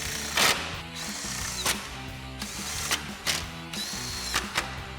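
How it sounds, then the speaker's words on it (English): A 10mm socket drives four screws back into a 2009-2018 RAM 1500 OE-style headlight, making close, busy mechanical whirring with sharp ratcheting clicks scattered through it and no talk. "Now we'll get our 10mm socket and run these back in."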